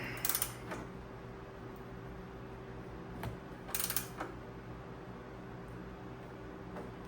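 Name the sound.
long steel wrench being swung with leverage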